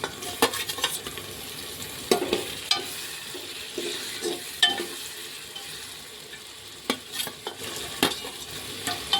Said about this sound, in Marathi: आता आपण याच्यामध्ये टाकणार आहे हिरव्या मिरच्या।